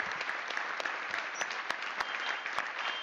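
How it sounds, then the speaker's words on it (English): An audience at the Ubisoft Forward game showcase applauds, producing a continuous roar of clapping punctuated by sharp, separate claps throughout. "Yves claps as well"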